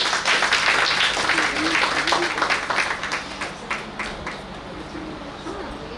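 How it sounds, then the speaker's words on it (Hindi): A dense crowd applauds at an awards ceremony in Delhi, loud at first and then gradually tapering off. "तो प्लीज तालियां जरूर बजाइए, जोरदार तालियों के साथ"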